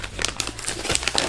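A plastic vacuum-sealer bag being handled up close, giving a quick run of sharp crinkles and crackly rustles over a second or so, with no talking.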